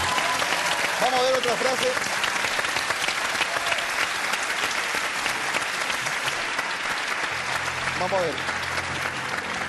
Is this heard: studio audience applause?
yes